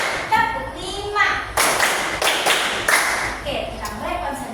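A classroom of children clapping in a counted rhythm, several loud bursts of group claps in short clusters, mixed with children's chanting voices between and under the claps.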